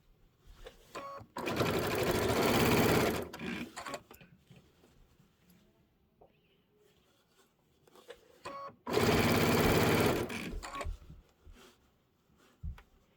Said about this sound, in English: We'll sew the back.